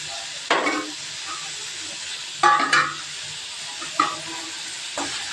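A spoon stirs chutney with freshly sprinkled coriander in a pan, giving a handful of short scraping strokes over a soft, steady sizzle.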